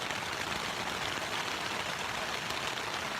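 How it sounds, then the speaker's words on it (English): Rain falls on a tent on a camping trip in the High Uintas, a faint, steady hiss of drops that continues evenly throughout with no voices. "it's raining again"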